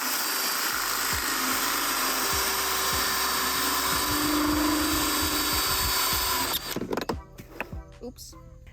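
A power drill whines continuously while boring a 1-inch hole, then cuts off, leaving scattered clunks and handling noises.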